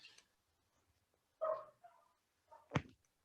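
Dogs barking in the background of an online medical case discussion: a few short, faint barks and a sharper yelp near the end, separated by quiet pauses.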